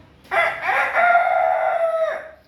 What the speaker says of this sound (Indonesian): Ada suara ayam.